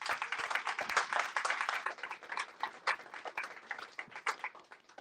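A small audience at a memoir event claps to welcome an author, the clapping fairly quiet and uneven, swelling and thinning in bursts.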